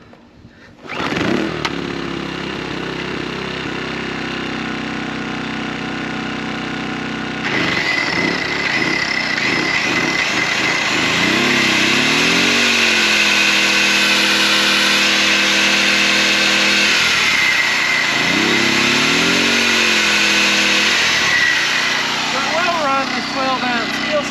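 A small Sportsman Gen1000i portable inverter generator engine cranks and starts, then runs loudly and steadily, revving up and down at times, close by with someone talking over it.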